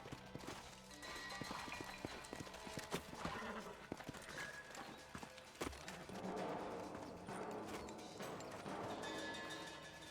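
Horses clip-clopping in the western video game Red Dead Redemption, with steady hoofbeats at a trot across the clip under a dense, busy game soundtrack and a brief whinny.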